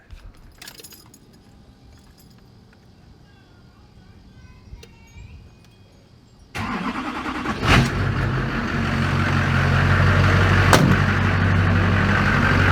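After a quiet stretch with small clinks, a Duramax pickup truck engine starts and runs steadily, rumbling close by and gradually growing louder as it drives.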